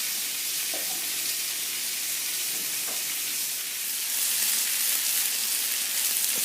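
Salmon fillets pan-fry in butter over lower heat, giving a steady, close, broadband sizzle with a few soft pops, swelling louder toward the end.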